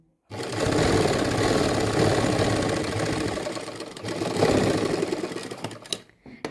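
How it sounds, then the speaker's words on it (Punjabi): Sewing machine running steadily as it stitches a half-inch pleat on a ladies' kameez, a close, continuous whirring motor hum that lasts several seconds before slowing and stopping near the end. "ਇੱਥੋਂ ਆਪਾਂ ਅੱਧਾ ਇੰਚ ਚੌੜੀ ਪਲੇਟ ਤੇ ਸਿਲਾਈ ਲਵਾਂਗੇ"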